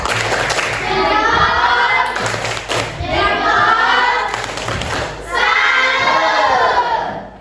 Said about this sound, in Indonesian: Lagi tepuk salut.